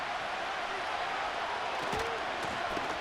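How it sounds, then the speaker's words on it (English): Football stadium crowd cheering during a professional game on third down, a steady, distant wash of roaring voices with no clear peaks, fairly faint. "This crowd into it now as we get to third down"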